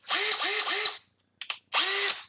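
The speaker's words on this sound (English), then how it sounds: "This is a big drill bit. New to me drill." A newly bought power drill fitted with a big drill bit whirs loudly in three quick bursts, then after a short pause a couple of faint clicks lead into one more sustained run, close and alone, while building a lunchbox guitar.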